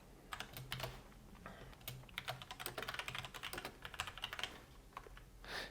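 Rapid, irregular clicking of keys on a computer keyboard as HTML is typed, close and quiet, continuing in bursts with no talking.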